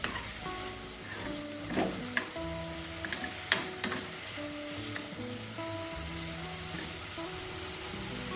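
Bangalore brinjal saasive curry is stirred in a pan on low heat. Soft sizzling runs under a few sharp spoon scrapes and clinks, with a tuneful background melody throughout.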